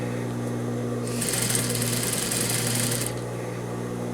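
A sewing machine backstitches the zipper seam of a pleated skirt with a yoke, one short burst of fast stitching lasting about two seconds over a steady motor hum.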